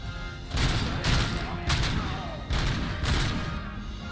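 Gunfire in the video game Robocop: Rogue City, a rapid burst of loud, punchy shots in a few clusters with booming impacts in between.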